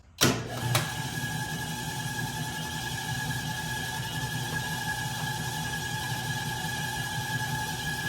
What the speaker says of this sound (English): now the chuck should spin counterclockwise